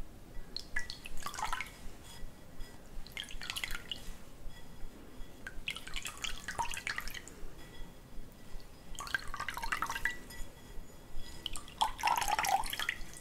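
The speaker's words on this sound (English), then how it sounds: "I'm gonna start by preparing the towel, which I will put into some water in order to take it off very quickly" A towel is soaked and wrung in water close to the ear. It gives repeated bursts of squishing, dripping and trickling, separated by quieter pauses.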